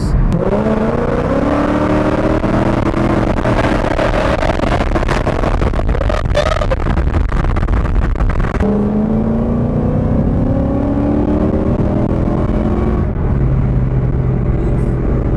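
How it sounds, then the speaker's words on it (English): Whipple-supercharged Ford Mustang with an upgraded fuel system making a wide-open-throttle highway pull in third gear, engine roaring loudly and climbing steadily in pitch, briefly dropping at a shift, then rising again, heard from inside the car. "It's going to be a wide open throttle pull at from 25 to 5K."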